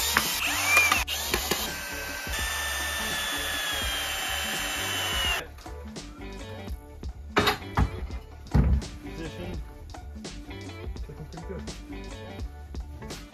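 A power drill drives 65mm screws through wood while gear is built for car camping, a sustained whirring run followed by sharper knocks, clatters and brief tool bursts nearby, with faint talk in the background.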